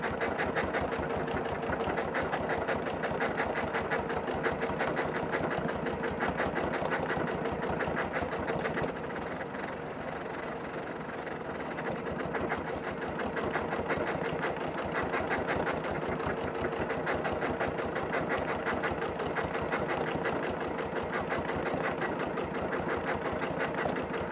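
A sewing machine runs a decorative stitch across a whole cloth quilt, its rapid mechanical chatter holding a fast even rhythm, close and steady for over twenty seconds with only a brief slight dip midway.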